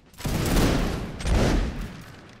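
Two loud, rolling musket volleys in a video game line battle, the first a ragged crash of many shots fired together on command, then a second booming volley about a second later, both close and alone.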